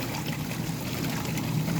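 Water trickles steadily into a KUPPET 18-pound compact washing machine, a constant soft running and splashing that stays even throughout with no talk.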